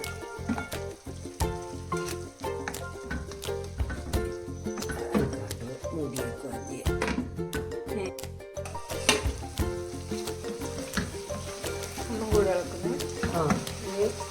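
Chicken frying in a pan sizzles steadily while it is stirred, with repeated scraping and clinking of the utensil against the pan throughout.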